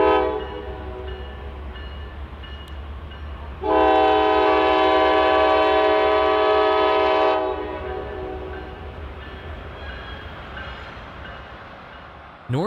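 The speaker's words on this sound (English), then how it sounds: "Northbound empty grain train 55G was our first catch of the day" An empty northbound grain freight train rolls through Laurel Siding in Tennessee, its low rumble steady throughout, while the horn sounds one loud, sustained blast of about three and a half seconds partway through.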